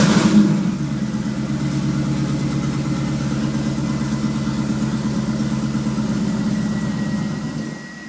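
A 1999 Pontiac Trans Am with an LS1 V8 fires up by push-button start, catching with a brief rev and then settling into a steady, rumbling idle that carries on close and fairly loud.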